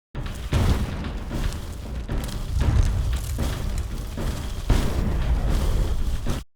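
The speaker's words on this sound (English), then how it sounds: "we've got some explosions on the next track, which are timed with the music" Dense, continuous rumbling booms with repeated heavy impacts, loud and close, layered like a sequence of explosions over a steady low roar.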